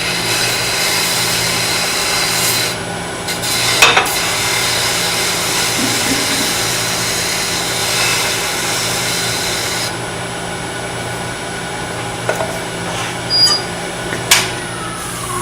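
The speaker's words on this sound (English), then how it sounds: "A little sanding." Sanding a small miniature vase on a lathe, a steady close rubbing hiss under the spinning motor's hum, with a few brief scrapes and knocks.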